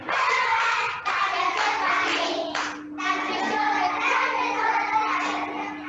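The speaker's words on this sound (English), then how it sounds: "Stand up tall and clap your hands." Children clap their hands during a classroom action song, a dense, steady patter of many small hands filling the room at close range, with a brief gap near the middle and a faint sustained tone running underneath.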